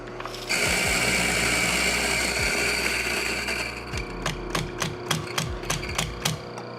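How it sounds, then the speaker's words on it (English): Coffee beans for pour-over are ground in a coffee grinder, starting with a sustained close whirring grind and turning into a run of rhythmic mechanical clicks and rattles, with no speech. "we're going to grind our coffee and get that going"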